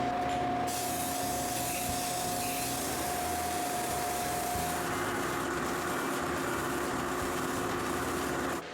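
Steady hissing spray of lacquer coating a wooden cremation urn after rubbing down with steel wool, a continuous close airy rush lasting several seconds with a faint tonal whine in the first half.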